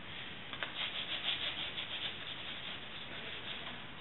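Wet paint being rubbed out on a painting, a soft steady close scrubbing and brushing texture with gentle rhythmic swells, quiet and without speech.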